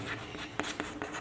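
Chalk or marker writing on a classroom board during a Hindi mathematics lesson on polynomials, a few short scratchy strokes in quick succession, fairly close and clear with no talk over them.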